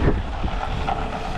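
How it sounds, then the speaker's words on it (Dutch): Strong wind buffeting the microphone outdoors near a campervan wash spot in Spain, producing a continuous loud low roar with gusty fluctuations and no speech. "Ik sta precies in de wind."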